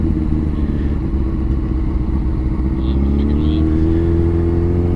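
Honda CBR 600RR sport bike engine under way on a scenic ride toward a covered bridge, a steady loud drone with rising revs toward the end, wind rush throughout.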